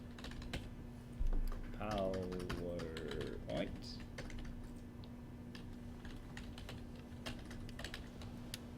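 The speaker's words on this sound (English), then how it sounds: "So I'm going to hit my flag key and type in PowerPoint." Keys clack on a computer keyboard in quick, light taps, scattered irregularly across the stretch, fairly faint, with a brief murmur of a voice early on.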